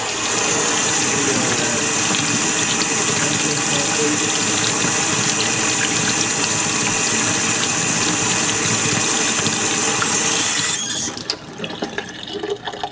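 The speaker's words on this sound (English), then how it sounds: "this is the hot water heater system, and we're going to do a test." A solar hot water heater system runs with loud, continuous rushing water and pump hum for about eleven seconds, then cuts off abruptly to quieter background noise.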